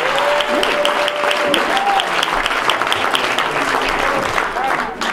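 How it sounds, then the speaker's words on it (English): A church congregation claps for the Lord during a worship service: loud, dense hand clapping fills the room while voices call out over it. "Won't you give the Lord a hand clap before you?"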